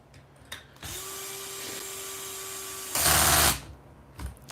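A DeWalt power tool runs with a steady mid-pitched whine for about two seconds, then a louder, harsher burst before it winds down, close by with no talking.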